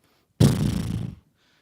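A single voice imitates a tired horse with a breathy, rumbling exhale lasting under a second, close and alone, starting suddenly and trailing off into silence.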